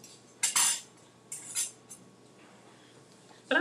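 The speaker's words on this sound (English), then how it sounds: "Scraping my spoons." Metal spoons scraping against a bowl in a home kitchen during baking, with two or three short, bright clinking bursts separated by quiet gaps and no speech.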